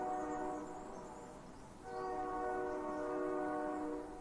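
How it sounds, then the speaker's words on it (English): A distant train whistle in a video game sounds in two long, sustained blasts with a brief dip between them, steady and moderately faint, with no talking. "I hear a distant train whistle."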